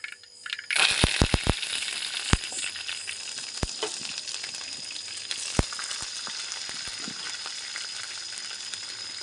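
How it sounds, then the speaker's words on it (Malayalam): Mustard seeds spluttering in hot coconut oil in a pan: a steady sizzle with several sharp pops clustered at the start, then sparser crackles, close and moderately quiet with no talking. "ഇതിലേക്ക് വെളിച്ചെണ്ണ ഒഴിക്കുക കടുക് ഇട്ട് കൊടുക്കുക കടുക് പൊട്ടിക്കുക"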